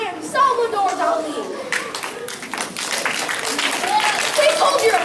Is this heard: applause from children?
yes